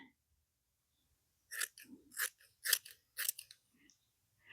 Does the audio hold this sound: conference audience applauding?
no